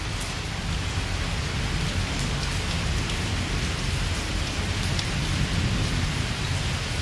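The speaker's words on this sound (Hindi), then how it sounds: "इतनी बारिश हो रही है" Torrential rain pours onto a waterlogged lawn in Islamabad, a dense, loud, unbroken hiss of heavy downpour with a low rumble underneath, steady throughout with no voices.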